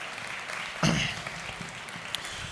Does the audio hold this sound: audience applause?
yes